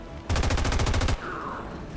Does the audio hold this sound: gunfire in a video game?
yes